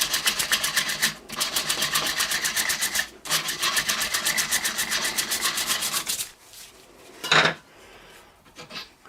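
Steam boiler clack valve being lapped by hand with fine grinding paste, a steady rapid gritty rubbing and scraping that runs in close, loud strokes with two brief pauses, then fades to a quieter rub and a final scraping burst.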